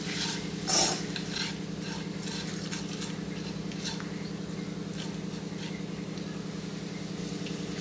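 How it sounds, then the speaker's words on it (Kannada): Instant puliyogare powder roasting in a pan over a low flame, with a steady low hum and faint intermittent stirring scrapes. It is close and even, with no talking. "ಇದನ್ನು ಕೂಡ ಸಣ್ಣ ಊರಿನಲ್ಲೇ ಹುರ್ಕೋಬೇಕು"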